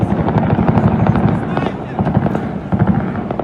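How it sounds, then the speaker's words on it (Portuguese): Heavy machine-gun fire in war footage near Sevastopol rattles in dense, continuous bursts, loud and rough under a voice. "Muito tiro mesmo."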